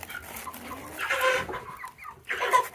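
Backyard chickens cluck in short, close bursts of calls while pecking at sunflower heads tossed onto the ground for them, with a quieter stretch between the louder clucks.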